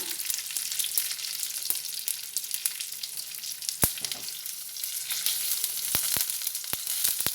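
Dried red chilli and curry leaves crackle and sizzle steadily in hot oil for a South Indian sambar tempering, with sharp pops scattered through the frying and no talking.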